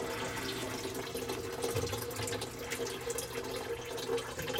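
Water spills and trickles around the filters of a water system during a gunk flush, a steady close hiss of flowing water with faint splashing, alone and without voices.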